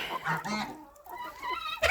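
Geese honk repeatedly in a noisy, overlapping chorus, fairly close and loud, with a sharper honk near the end.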